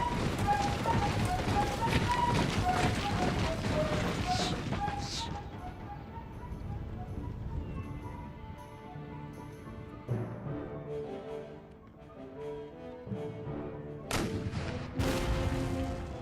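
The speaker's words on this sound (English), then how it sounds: "We have some Cherokee bowmen on the walls, firing cannons actually. These wall cannons." Wall cannons and musket volleys boom during a fort battle in Empire: Total War, a dense rolling barrage of loud blasts that thins out, then returns in sharp bursts.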